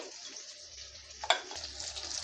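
Bottle gourd pieces tossed with turmeric in a pan, stirred with a soft scraping and steady sizzle, one sharper clack of the spoon against the pan midway.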